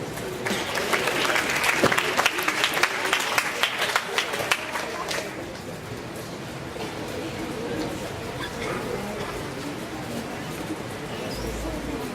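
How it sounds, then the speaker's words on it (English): Audience applause at an athletes' awards night welcoming Dr. Maria Luz C. Vilches, a few seconds of lively crowd clapping that dies away, followed by quieter room murmur and talk. "how about we give a warm round of applause to our very own Dr. Maria Luz C. Vilches"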